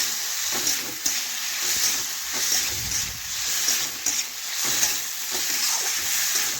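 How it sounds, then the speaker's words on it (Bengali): Salted raw papaya is stirred in a hot pan for a vegetarian papaya posto, giving a continuous close sizzle with rhythmic scraping strokes of the spatula, no voices over it. "লবণ লবণ নাড়াচাড়া করে ভালোভাবে মিশিয়ে নিচ্ছি"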